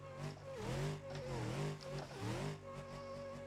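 A fast car in the driving game BeamNG.drive accelerates hard, its engine note climbing and dipping through gear changes with a steady loud roar, heard alone without talk.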